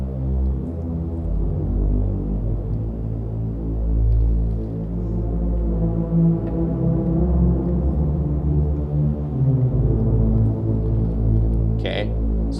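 A buzzy, harmonically rich single-oscillator synthesizer tone droning steadily for several seconds, its notes smeared by echoing delay and a reverberant wash, with no voices.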